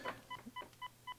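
Short DTMF keypad tones sound on a digital military telephone switch, a quick series of about five clean beeps at an even pace, fairly faint and alone.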